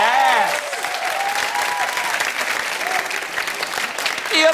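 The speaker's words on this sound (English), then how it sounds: "The applause of recognition." Warm applause from a television studio audience at a late-night talk show, a dense wash of clapping heard throughout, with voices cheering and whooping over it.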